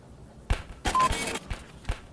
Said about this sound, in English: Sorry, I gotta stop the beeping.